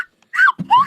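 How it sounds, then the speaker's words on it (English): A slide whistle plays a few short gliding notes, sweeping down in pitch, close and loud, with brief gaps between the phrases. "Slide whistle solo."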